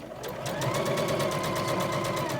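A domestic sewing machine stitching at a steady fast pace, its needle clattering in a rapid even rhythm over a motor hum, close and clear with no talk.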